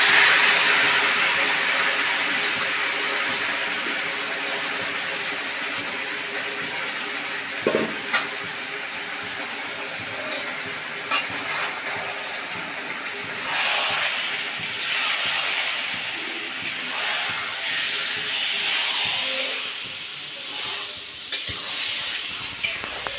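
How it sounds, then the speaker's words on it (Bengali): Chicken pieces for a meat curry sizzle steadily in a hot pan, a loud continuous hiss with occasional scraping stir strokes and light clinks, the frying settling slightly quieter over time. "চিকেনটা দিয়ে দিচ্ছি।"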